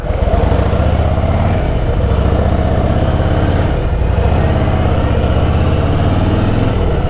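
A Harley-Davidson Fat Boy motorcycle engine runs steadily and loudly up close, a deep, continuous throbbing rumble with no talking.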